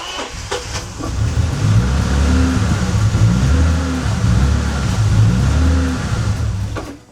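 A Bentley engine being diagnosed for a fault runs loudly up close, its low rumble rising and falling through several rev cycles after a few clicks at the start.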